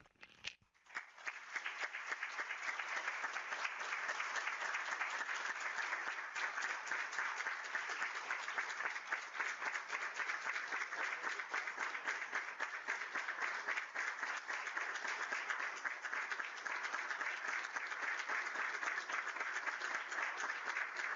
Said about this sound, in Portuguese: através de uma salva de palmas que eu quero pedir a todos agora